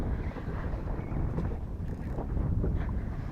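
Wind buffets the microphone out on open water while fishing for redfish from a boat in South Florida, a steady broadband rush that holds constant and swells slightly toward the end, with no voices.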